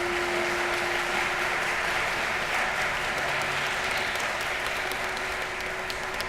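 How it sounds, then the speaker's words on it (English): Sustained applause from an audience honoring the artists of a Trinity songbook performance, even and continuous hand clapping with a few sharper claps standing out, heard at a moderate distance. "let's give them another round of applause."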